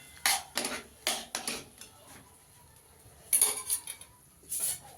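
A spoon stirs grated potato in a bowl for potato tikki, giving short scraping clinks in several bursts with quiet pauses between them.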